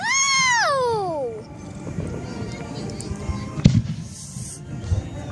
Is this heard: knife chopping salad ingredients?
no